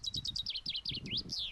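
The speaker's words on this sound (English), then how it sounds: "you can hear the tranquil sound of the birds singing" Small birds sing in the Normandy countryside near Omaha Beach, giving a quick run of bright repeated chirps and falling whistled notes over a faint low rumble, close and clear with no talk.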